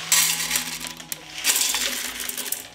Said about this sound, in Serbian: Opran pasulj sipam u šerpu.